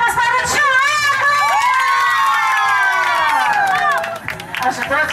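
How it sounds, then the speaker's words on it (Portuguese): A crowd cheers, shouts and applauds for a man named Thiago at a marriage proposal, loud and sustained with excited high voices, including children's, then tapering off near the end. "Uma salva de palmas para o Thiago!"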